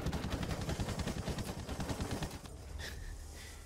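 Rapid 20mm aircraft cannon fire in Battlefield 5, a dense stream of loud, fast bursts that stops partway, leaving a quieter engine drone with faint high tones.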